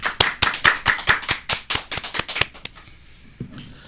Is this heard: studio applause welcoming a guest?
yes